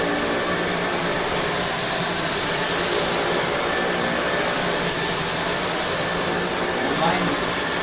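An American Viking 507 Electrolux canister vacuum cleaner runs on its boost setting, giving a loud, steady broadband motor roar with a high whine that swells briefly partway through.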